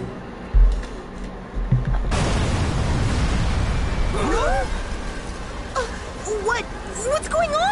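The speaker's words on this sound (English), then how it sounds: "An explosion in the city!" In the video game Dragon Ball Z Kakarot, a sudden heavy explosion booms in a city and rolls into a sustained rumbling roar, with exclaiming voices cutting in over the din.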